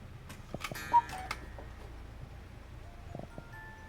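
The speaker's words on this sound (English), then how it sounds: "some of the favorites of the store are the cuckoo clocks, and I'll show you why. This is a chalet style." A chalet-style cuckoo clock in a clock shop ticks with faint, steady clicks. A brief tone sounds near the start, over a quiet room background.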